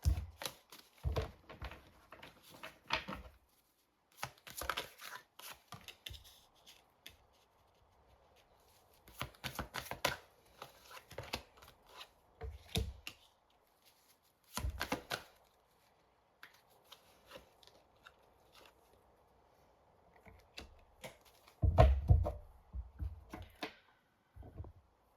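Oracle cards are shuffled and handled in quiet, intermittent bursts of crisp riffling and light tapping, separated by near-silent pauses.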